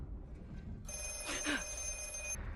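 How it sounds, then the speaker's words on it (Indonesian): A telephone bell rings in a single sustained burst of about a second and a half, bright and tonal over a low background hum. "sebelum sempat keluar, telepon berdering lagi"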